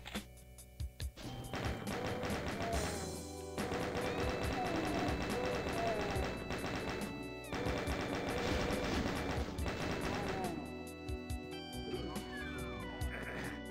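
Chaingunner enemies open fire in the video game Doom, a dense rattling stream of rapid shots layered over game music and effects for most of the stretch, with someone speaking throughout.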